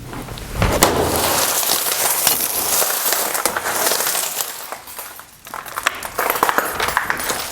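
A heavy 10-pound crowbar batters the unfilmed glass of a typical residential French door, giving continuous loud crunching, cracking and tinkling of breaking glass that dips briefly and then resumes with sharper clinks.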